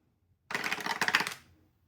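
A short burst of dice rattling and tumbling, about one second of dense clicking that starts abruptly and fades out, close and alone.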